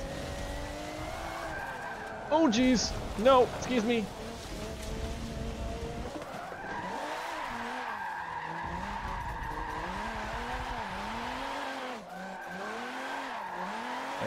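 Alfa Romeo race car in Forza Motorsport 7, its engine revving hard and bouncing off the redline in rapid, loud, wavering pulses, with brief tire squeal early on and a voice talking over it.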